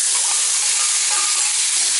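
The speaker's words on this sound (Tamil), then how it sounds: "இப்போ நான் தக்காளி போடுறோம்." Tomatoes frying in oil for a village-style fish curry, a loud, even, hissing sizzle that carries unbroken and close throughout, with no one speaking.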